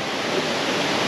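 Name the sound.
small waterfall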